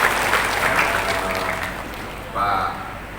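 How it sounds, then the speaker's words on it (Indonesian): Applause from a gathering of clerics and community figures at a home in Lebak for Pak Jayabaya's 65th birthday, a steady clapping wash that fades somewhat, with a voice briefly rising over it near the end. "kita tepuk tangan buat beliau dulu"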